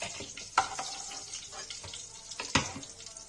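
Eggplant sizzles in hot oil in a pan, a close crackling fry punctuated by a couple of sharp clinks and stirring scrapes.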